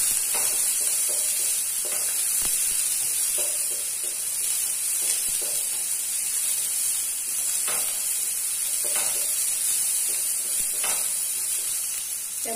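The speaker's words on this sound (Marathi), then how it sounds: "कांदा चांगला तिरट करते." Onion frying in a pan for egg curry, a steady bright sizzle with faint hiss throughout, broken by occasional soft stirring scrapes and taps, close and continuous with no talk.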